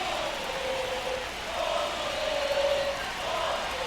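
A stadium crowd in MLB The Show 25 chants olé in a sustained, rising and falling sing-song roar, heard fairly close and steady throughout with no talk over it.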